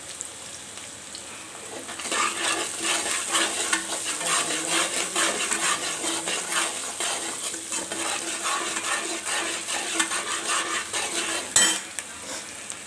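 Onions added to a hot pan for an Indian potato, carrot and pea curry, sizzling steadily while a spoon scrapes and stirs with continuous close metallic clatter.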